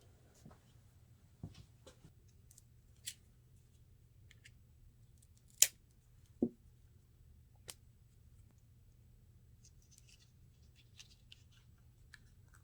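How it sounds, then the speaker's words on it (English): A few sparse, sharp snips and clicks of scissors cutting a watercolor paint tube in a quiet room, separated by long pauses, close and soft. "you can actually snip it back here with some scissors."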